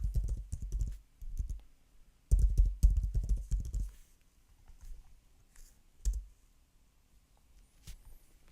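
Keys clatter on a computer keyboard as a password is entered, in two dense bursts of rapid clicks separated by pauses, followed by a few isolated taps; close and fairly loud in a quiet room with no talking.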